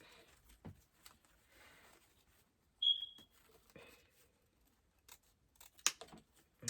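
Scissors cut material for a Christmas lantern with a deer: a few faint, sharp snips and clicks, spaced apart, in an otherwise quiet room.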